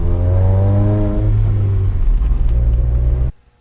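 A VW MK7 GTI with a freshly swapped manual gearbox revs close by on its first drive, the engine note climbing through a gear and then cutting off abruptly near the end.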